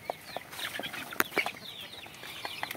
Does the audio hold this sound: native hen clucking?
yes